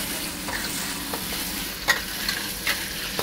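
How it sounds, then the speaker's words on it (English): Tofu stir-fried in a wok for Pad Thai, a steady close sizzle of frying with a few sharp scrape and stir clatters from the utensil, no talking. "You fry tofu until it became brown."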